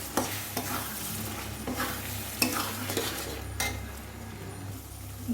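Chicken bharta gravy with chopped boiled eggs being stirred in a pan, with a steady series of scraping spoon strokes over a soft sizzle, close and moderately loud, no voices.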